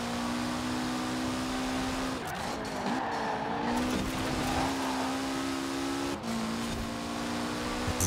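A car driven flat out at the limit in the racing game Forza Horizon 4, its engine holding a steady, loud drone with some tyre scrub and short shifts in pitch throughout.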